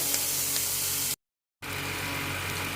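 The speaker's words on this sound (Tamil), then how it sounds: "இப்போ இதை லைட்டாக நம்ம வதக்கி எடுத்துப்போம்" Onions and masala sauté in a pan for a sea clam stir-fry, giving a steady, close hiss of frying that drops to a brief silence midway, then resumes just as evenly.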